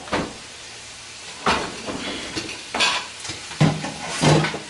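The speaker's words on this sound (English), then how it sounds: "You hear a little sizzling." Intermittent kitchen noise with bursts of sizzling and stirring, a utensil scraping a pan several times at close range.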